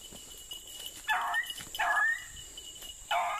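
Beagle hounds chasing a swamp rabbit give three separate baying yelps about a second apart, sounding moderately distant over outdoor background hiss.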